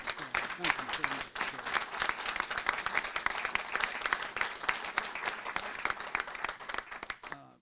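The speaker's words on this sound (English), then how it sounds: "Let's give Chris Tomlinson a round of applause." Sustained applause from an audience at a highway interchange MOU signing ceremony, steady dense clapping across the whole stretch, fairly distant and even, fading out at the end.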